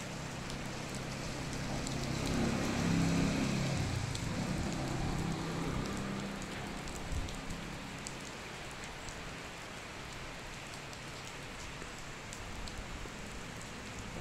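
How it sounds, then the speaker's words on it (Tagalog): Heavy rain pours down at night while people wait for a bus, a dense, steady roar of drops hitting surfaces that runs unbroken throughout. "Grabe yung ulan."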